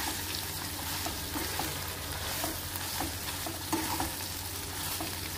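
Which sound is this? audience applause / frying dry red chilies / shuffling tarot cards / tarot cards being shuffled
frying dry red chilies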